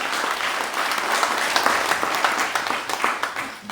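An audience at a lecture event gives loud applause to welcome a guest, a dense, steady patter of many hands clapping with occasional sharper claps, fading slightly at the end.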